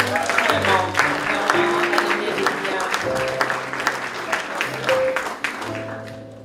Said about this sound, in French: Une main d'applaudissement, s'il vous plaît.